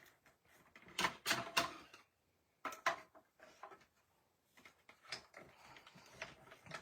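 A stamp and die sheet is cranked through a mini die-cutting machine, giving a series of close, quiet mechanical clicks and rolling creaks in uneven bursts, with soft handling noises between them.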